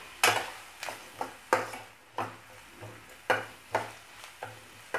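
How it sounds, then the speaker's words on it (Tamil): Finely chopped onion sautéing in a pan, with regular scraping strokes of a spatula roughly every half second over a soft background sizzle, close and clear, no voices. "இப்போ இதை நல்லா வதக்கிக்கலாம்"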